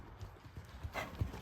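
Horse hooves clip-clopping at a steady walking pace during a riding clinic lesson, fairly quiet and close, with a few heavier footfalls and faint background noise.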